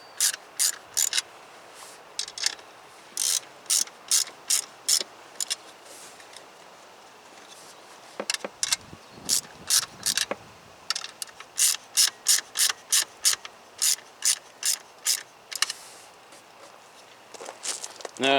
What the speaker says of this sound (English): So I get a 10 millimeter socket and just tighten these down.